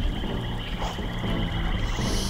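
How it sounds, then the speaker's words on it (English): Viper frogs in the Wizardry 8 video game croak in a dense swamp soundscape, a continuous close chorus of rasping croaks over steady ambient noise with no talk. "Eight viper frogs, but an item."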